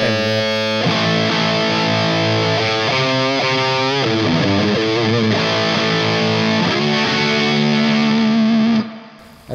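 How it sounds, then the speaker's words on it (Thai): An electric guitar played through a Laney GHR amplifier with the gain fully up, ringing out loud, heavily distorted sustained chords and shifting bends for several seconds before cutting off abruptly. "เราเพิ่มที่ตัวนี้นะครับลองดูว่าเสียงเป็นไงเสียงเกนก็จะมาเต็มๆเลย"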